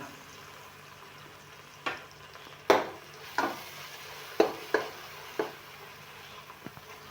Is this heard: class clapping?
no